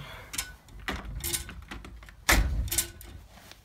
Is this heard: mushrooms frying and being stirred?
no